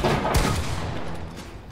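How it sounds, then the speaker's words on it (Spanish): Gunfire aimed at a player in the Fortnite video game, a dense loud burst of shots crowding the start and trailing into a rumbling wash with no voices over it. "¡Me disparan!"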